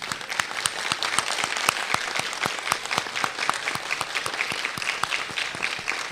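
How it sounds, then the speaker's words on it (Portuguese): Applause closes an interreligious ceremony marking a 77th anniversary in Franco da Rocha. A crowd claps steadily, with crisp individual claps standing out over the continuous clatter. "Uma grande salva de palmas"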